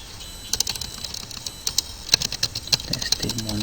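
Steady patter of computer keyboard keystrokes while editing CodeIgniter code, fairly close and crisp clicks in irregular bursts, with faint speech near the end.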